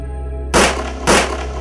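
Two sharp pistol gunshots, about half a second apart, each a loud crack with a brief ringing tail over a steady low hum, close and without talking.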